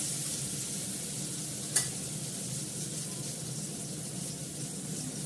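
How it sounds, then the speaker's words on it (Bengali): Potatoes frying in mustard oil give a soft, steady hiss and sizzle with one brief sharp tick partway through, quiet and unbroken by any voice. "আলুটাকে ভালো করে লাল করে ভাজবো"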